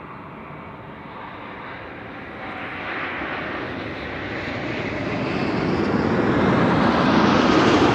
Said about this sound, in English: ERJ is landing